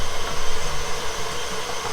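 An electric mixer whipping egg whites and sugar for silvanas meringue, giving a steady, loud motor whir with a noisy airy hiss, constant and close, no voices.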